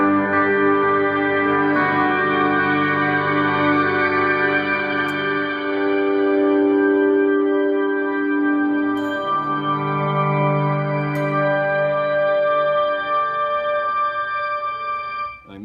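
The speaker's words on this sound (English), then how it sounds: "one of my favorite things to do is this shimmer effect, and I've layered some delay from the HD500 in with it" Electric guitar played through a shimmer effect layered with delay from a Line 6 HD500, sustained chords blooming into bright, echoing high overtones that ring on continuously with no talking.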